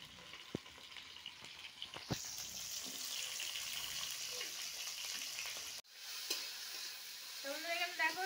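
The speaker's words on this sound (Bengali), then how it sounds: "আগে ভেজে নেবো ভালো করে আলুগুলো।" Potatoes frying in hot oil in a wok give a steady, close sizzle broken by a few sharp clinks of stirring, with a brief cut midway before the crackle resumes.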